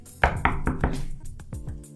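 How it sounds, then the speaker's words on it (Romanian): Knocking on a door: about four firm, evenly spaced raps come first, followed by a few quicker, lighter knocks, all fairly close and with no voices present. "Lavi, Lina, deschideți ușa!"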